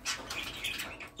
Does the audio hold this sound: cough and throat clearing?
no